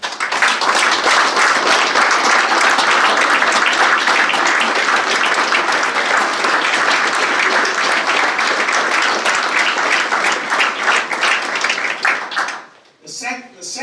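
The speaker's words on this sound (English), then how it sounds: "So I want to offer a round of applause for the Save the Bay staff" Sustained, loud applause from the audience at Save The Bay's annual meeting, honoring the organization's staff, a dense wash of clapping that holds steady for about twelve seconds before dropping away abruptly, then a brief quieter stretch.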